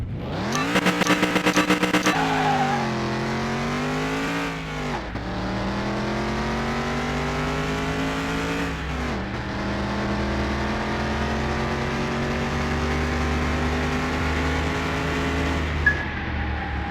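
Engine of a 440 Hemi six-pack car racing in Car Mechanic Simulator 2021, loud and close, with a long rising roar that climbs through gear after gear, brief dips between shifts and a steady high drone.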